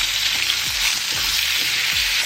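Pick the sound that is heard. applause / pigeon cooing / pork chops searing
pork chops searing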